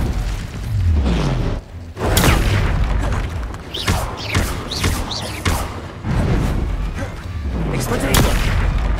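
Fire spell explosions in the Hogwarts Legacy video game: loud, repeated booms and blasts in close succession, with a voice talking throughout.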